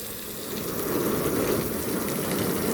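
Rain starting to fall on a car at a drag race, a dense, steady hiss of drops rising in the first half second and then holding evenly and close, with no voices.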